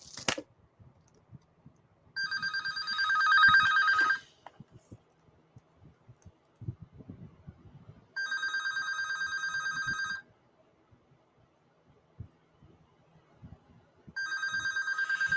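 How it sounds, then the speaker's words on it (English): A telephone rings in three separate bursts of electronic trilling, each about two seconds long with quiet gaps between, loud and close with no talking. "I gotta let the phone ring."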